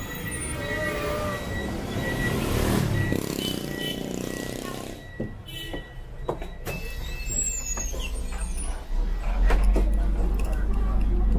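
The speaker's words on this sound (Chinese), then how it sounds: "我们的公交车来" A city bus pulls up at a stop in Hanoi, its low engine rumble building and growing louder toward the end over street clatter and faint voices.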